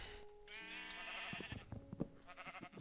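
Several sheep bleating in the Minecraft video game, layered wavering bleats close together in quick succession, moderately loud and without talk.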